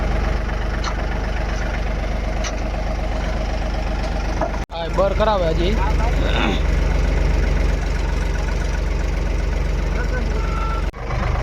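A tractor engine stuck in mud runs steadily and loudly throughout, a constant low rumble, with a person speaking briefly over it.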